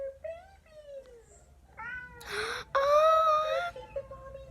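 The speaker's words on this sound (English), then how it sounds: "A mommy cat and her babies." A mother cat and her kittens meowing, found as the source of thumping noises at night: a run of high, wavering meows and longer wailing cries, close and fairly loud, with one drawn-out loud call near the end.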